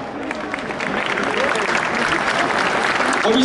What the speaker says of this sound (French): Merci d'applaudir bien fort avec une remise de maillot.